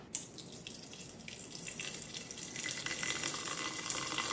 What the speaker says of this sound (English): water filled a tiny bit over the 5 mark line